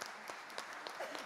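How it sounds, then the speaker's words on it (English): Audience at a church carol concert claps quietly, a soft, even patter of many hands with a few sharper claps standing out, heard from a distance. "I'm all for clapping."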